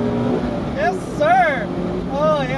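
A 2019 Mazda MX-5 Miata RF with a 2-liter naturally aspirated four-cylinder and manual gearbox revs hard, its engine note sweeping up and down in repeated rising-and-falling pulls close by, under a voice talking.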